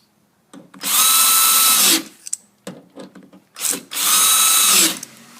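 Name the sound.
power drill driving screws into car door lock actuator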